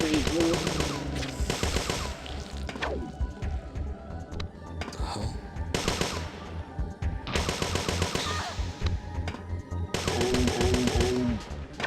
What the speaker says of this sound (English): Start using the energy shot, see if I can conserve a little ammo